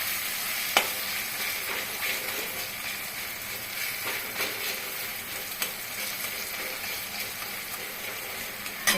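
Goat liver sizzles in a hot wok for a Bengali stir-fry, a steady, moderately quiet frying hiss broken by a few sharp clicks and clatters of stirring.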